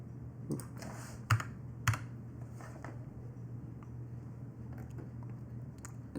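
Quiet computer keyboard typing in bursts of soft clicks with a couple of sharper key strikes, close up over a low steady hum, no talking.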